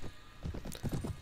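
Horse hooves clopping in the medieval combat video game Mount and Blade, a quick run of several close, fairly loud thuds in an uneven galloping rhythm with no talk over them.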